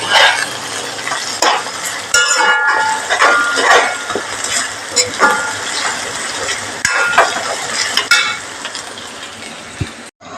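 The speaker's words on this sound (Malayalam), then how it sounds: "ഇഞ്ചി പച്ചമുളക് വേപ്പല എന്നിട്ട് ഇതിൻ്റെ പച്ചമുളം പോണ വരെ നമുക്ക് ഇളക്കാം" Ginger, green chilli and curry leaves stirred and frying in a pan for a fish curry, with a steady loud sizzle and scraping spoon strokes running throughout, no talking.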